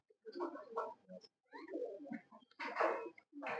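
A champion racing pigeon coos close up in soft, throaty bursts, several short phrases separated by brief pauses, quiet and alone.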